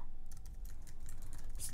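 Soft, rapid keyboard typing with a steady patter of light key clicks, close and quiet under a low background hum.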